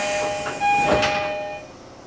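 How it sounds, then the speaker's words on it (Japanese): Doors of a Tokyo Metro 8000 series train with Mitsubishi IGBT equipment sliding shut on a platform, with a steady hum, a whooshing slide and a soft thud near the middle, plus tonal chime-like tones over the top. "閉まるドアにご注意ください。"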